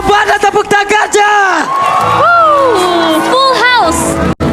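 A packed arena crowd at an MPL Indonesia Mobile Legends esports match between ONIC and RRQ whoops and cheers loudly, with a caster's amplified voice and music ringing over the roar.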